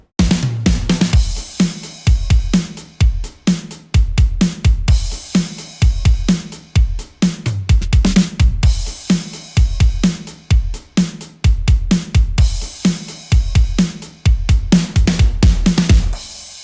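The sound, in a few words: acoustic drums part in progressive house track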